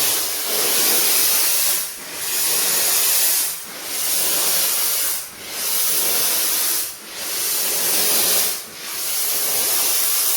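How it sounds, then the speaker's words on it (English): Loud, continuous hissing spray from a steam cleaner's broad steam spray head, cleaning an air conditioner, in bursts of about two seconds, each separated by a brief dip, with no talking. "it's got a very broad spray, just using the normal steam spray head"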